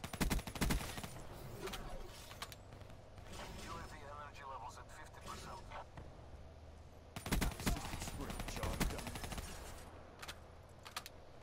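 Kuda submachine gun firing in a video game: rapid automatic bursts near the start and again in the middle, with mechanical rattles and handling noises between them.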